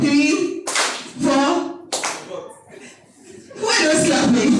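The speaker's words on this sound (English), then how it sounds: "Who are those clapping?" A group of people claps their hands in a few loud, close bursts at a casual group activity, mixed with chuckles and voices talking.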